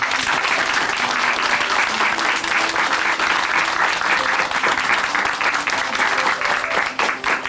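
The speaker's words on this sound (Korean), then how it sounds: "우리 다시 한번 정세민 자매님께 응원의 박수 보내드릴게요" A church congregation gives sustained applause for a woman who has just shared her testimony, dense and loud clapping that continues steadily to the end.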